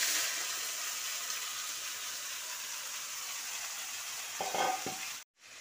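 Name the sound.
soybean and spices poured into a hot pan, frying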